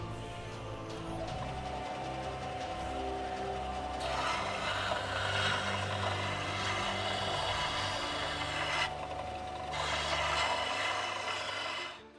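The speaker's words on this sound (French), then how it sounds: "ça va consister à polir, à casser tous les angles sur une ponceuse à plat" A flat belt sander hums steadily while a forged butter knife is pressed against it to polish and round off its edges, with a continuous abrasive rasp that swells and eases over a droning motor.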